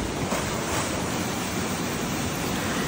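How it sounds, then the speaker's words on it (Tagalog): Steady broadband rush of falling water from small mini waterfalls surrounding a nature spring island, continuous and fairly close, with no voices. "Napapalibutan kasi ng mga mini waterfalls yung The Island Nature Spring."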